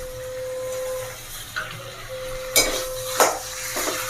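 Curd being stirred into potatoes in a bowl for a rasa dahi aloo curry, with soft wet mixing and a few sharp clinks of a spoon against the bowl, close and fairly quiet.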